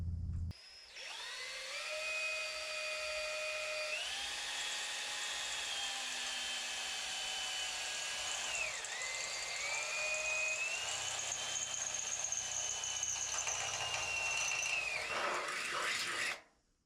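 A power drill whines steadily at high pitch for about fifteen seconds, the tone stepping and dipping as it bites through Austin Mini front body panels, then stops abruptly.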